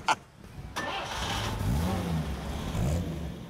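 A car engine cranks and catches, then settles into a moderate idle with a couple of gentle revs, heard from inside the vehicle with faint background noise.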